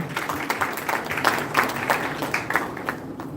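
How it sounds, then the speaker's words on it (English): Audience applause for Dr. Chandrakant Shetty at the Goa Open Innovation Challenge 2025 event: a steady wash of many hands clapping at moderate, slightly distant level, with no talk, lasting a few seconds. "Let's give a big applause for him, ladies and gentlemen."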